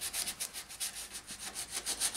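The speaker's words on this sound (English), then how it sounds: "and sanding up between the rivets" Rhythmic sandpaper rubbing between the rivets of a boat hull during restoration, quick back-and-forth strokes at a steady pace, close and fairly quiet, with no talking.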